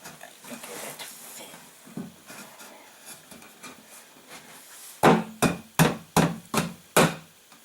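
A part for a foldable home-built flight simulator is whacked into place. Soft shuffling and light handling come first, then six sharp, loud hammer-like blows follow in a quick, fairly even rhythm near the end.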